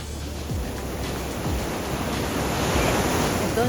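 Strong ocean surf breaks continuously on a beach along the Vargas coast near Chuspa, Caruao parish, loud and close, with a steady roar of water and wind noise and no voices.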